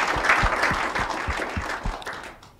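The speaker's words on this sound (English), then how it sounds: "Can we please clap for this organization?" A studio audience claps for an organization, moderately dense applause with a few heavier rhythmic thumps underneath, fading toward the end.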